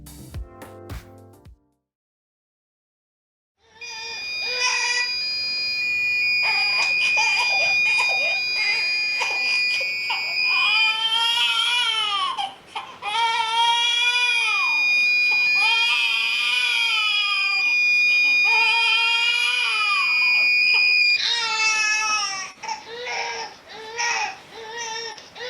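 Buzzer on an ESP32-based baby cry detector holds a steady, high electronic tone for many seconds, sounding together with a loud, wavering, cry-like wail that rises and falls in repeated sweeps.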